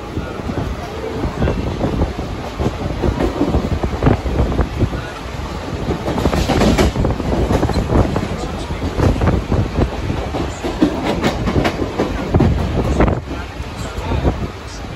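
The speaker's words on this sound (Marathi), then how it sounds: "बारेलची ट्रेन पकडलेली आहे आम्ही," Inside a crowded local train bound for Dadar, a rolling rumble with uneven rattles and knocks continues over gusty wind noise on the microphone, moderately loud, with crowd voices blending into the din.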